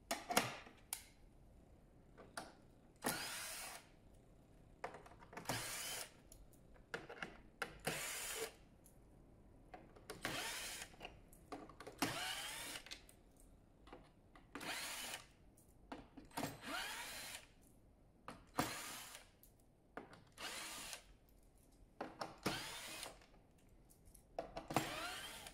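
A power drill backs out the fourteen chassis screws on an Automower 305 robotic mower, giving repeated short whirring bursts spaced a second or two apart, close and fairly quiet, with no talking.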